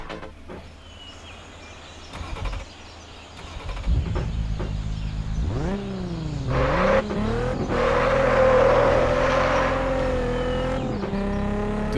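Aston Martin engine in the Test Drive Unlimited 2 video game, idling then revving up with rising and falling pitch sweeps as it accelerates through gears, loud and steady with no talking.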